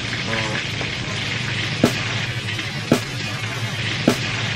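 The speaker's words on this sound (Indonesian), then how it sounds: "Sekarang kita numis si bumbu acar kuning" Yellow acar spice paste sautéing in a pan for fish acar, a steady close sizzle and crackle broken by three sharp clacks of a utensil against the pan.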